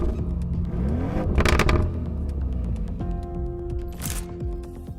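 A Lamborghini Urus SE Performante drives past nearby, its engine note rising and falling through gear changes, loud and continuous with tonal whines over a rumbling low end.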